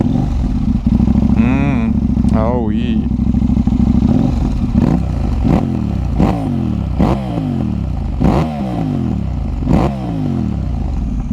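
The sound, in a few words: motorcycle engine starting and idling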